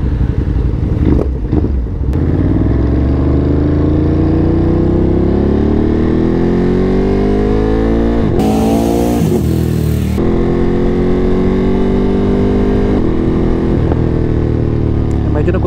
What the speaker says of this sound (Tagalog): Medyo nagpo-backfire lang yung exhaust ah.